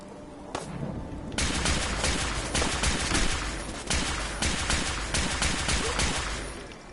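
Rapid bursts of automatic gunfire from a firefight in Fallout 4's Nuka World add-on, dense and loud overlapping shots crackling almost nonstop for several seconds after a brief sharp opening shot.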